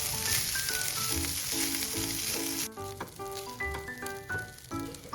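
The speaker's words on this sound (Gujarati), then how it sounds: "બધું જ પરફેક્ટલી મિક્સ થાય એ રીતે આપણે હલાવવાનું છે." Boiled basmati rice stirred and tossed in a hot pan, a close sizzle with scraping stir strokes, while melodic background music plays throughout.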